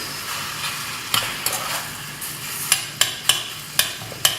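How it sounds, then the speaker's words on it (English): Tomato paste fries in a pan for Kerala-style grilled fish, a soft continuous sizzle broken by sharp, evenly spaced spoon taps and scrapes as it is stirred, with no one speaking. "So we want to fry this until it becomes like a thick paste."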